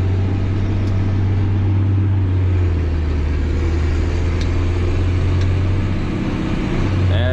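A Massey Ferguson 8480 tractor pulling a manure spreader across grass fields gives a steady, loud, low engine drone from inside the cab, constant throughout without letup.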